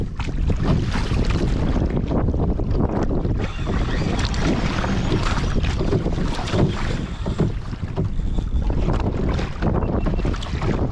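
Steady wind gusts buffet the microphone and rush across open water while a kayak sits offshore off Australia, a continuous broadband roar with faint water sloshing beneath and no voices.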